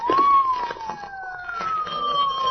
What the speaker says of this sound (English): Hey, listen. Police car.